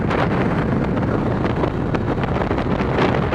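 Steady, loud wind buffeting the microphone, a continuous roaring rumble with gusty bursts throughout and no voices.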